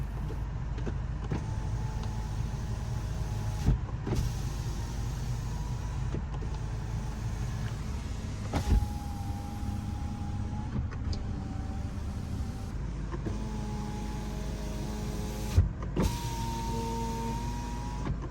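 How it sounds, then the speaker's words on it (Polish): Car power windows whirring up and down several times, each electric motor run ending in a soft thud, over a steady engine idle. "nagraliśmy dla Was test sprawności okien"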